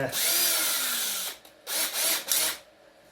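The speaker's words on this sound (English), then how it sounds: "I've got a 10mm bit just to sink in the hole, just for the head of the screw to go in" A power drill with a 10mm bit countersinks a screw-head hole in a wooden tree branch, one long whining run, then three short bursts close by.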